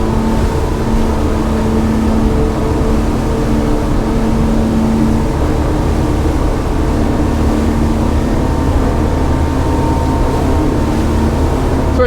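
A Grady White Freedom 325 motorboat with a SeeV2 hull runs at about 31 knots, its engines giving a steady, loud, continuous roar with wind and water rush, close and unbroken, with no voices.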